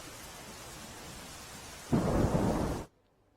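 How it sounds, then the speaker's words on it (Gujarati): Steady heavy rain hisses in Ankleshwar, Bharuch district, for a while, then swells into a louder, heavier downpour before cutting off abruptly. "સમગ્ર ભરૂચ જિલ્લાની અંદર ધોધમાર વરસાદ વરસી રહ્યો છે"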